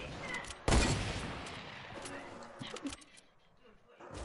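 Gunfire in Fortnite, a burst of shots landing at once, then scattered quieter pops and crackle that fade under the game's ambient noise.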